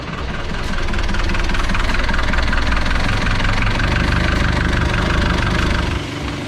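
A loud outboard boat engine idles steadily throughout, its rough, even running continuing without talk before easing slightly at the end.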